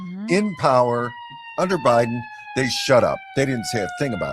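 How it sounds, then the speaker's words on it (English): Fire truck sirens passing on a road sound as sustained wailing tones behind someone talking, running steadily under his speech for the whole stretch. "I'm sorry about the sirens."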